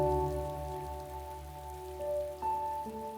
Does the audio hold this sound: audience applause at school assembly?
no